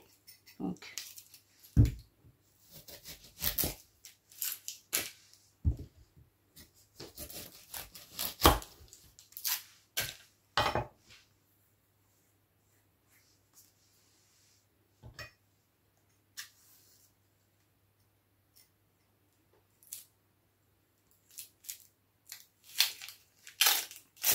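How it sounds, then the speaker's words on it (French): A knife peels and cuts an onion on a board, with sharp, irregular chopping and crunching strikes close by, clustered in bursts with quiet gaps between them. "on va faire donc la découpe d'un oignon. Donc déjà on va l'éplucher"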